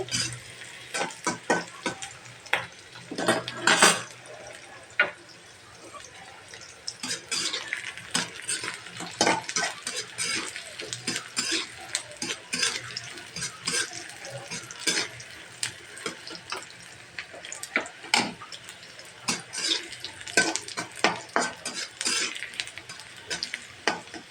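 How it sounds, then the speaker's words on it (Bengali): Chopped onions for a vegetable curry fry in oil in a pan, a steady close sizzle broken by repeated sharp scraping stirs and clatters, with no talk. "তাকে ভালো করে কষিয়ে নিতে হবে, পেঁয়াজটাকে মানে ভেজে নিতে হবে।"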